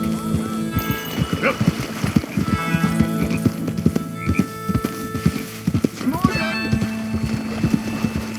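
Horse hooves clip-clopping in Red Dead Redemption 2, a rapid, uneven run of thuds up close, with whinnies and ambient game sound, while characters talk over it.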